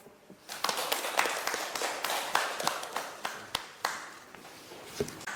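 Sparse audience clapping in a school classroom setting during a civic lesson on voting, quiet individual claps scattered irregularly across the span rather than a dense ovation, some louder sharp claps near the end.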